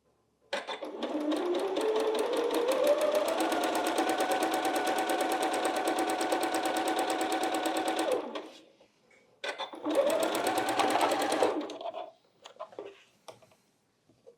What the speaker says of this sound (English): So I'm gonna sew that on.